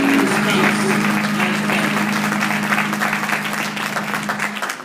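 An audience applauding a newly installed church president, dense sustained clapping at close range that gradually thins toward the end, with a low held tone sounding underneath at the start.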